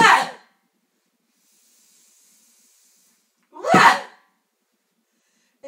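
Two sharp, breathy exhaled vocal bursts, separated by a few seconds of silence, are voiced during an emotional release exercise, close and fairly loud.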